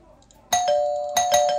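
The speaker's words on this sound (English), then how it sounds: "we can ring the doorbells" Doorbell chimes in the video game Elevator Zero, a sustained bright electronic tone that rings twice in close succession, loud and clear over a faint room background.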